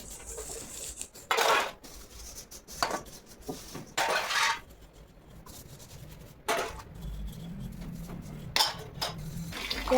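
Dishes and utensils being scrubbed and rinsed in a sink, with irregular clinks and clatters of pots and cutlery, short splashes of running water, and no talking.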